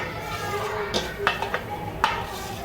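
Roti flour is mixed with salt and oil in a bowl, giving a few faint clinks and scrapes against the bowl at irregular moments over a low background hum.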